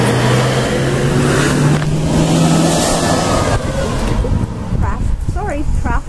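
Road traffic passing a home garden: a car rushes by with a rising-then-falling engine whoosh, followed by steady road hum, with birdsong chirps near the end.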